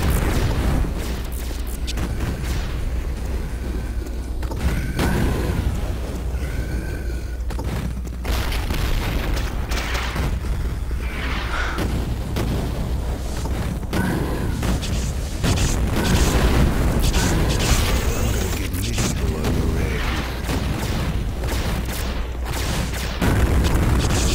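Rocket launcher explosions in Duke Nukem 3D, a relentless barrage of deep booming blasts overlapping one another with hardly a gap, loud and close, with rumbling debris throughout.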